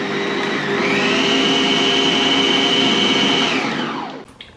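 An old kitchen stand mixer runs on high, beating Bakewell tart pastry dough. The motor whirs loud and steady for about four seconds, then winds down and stops.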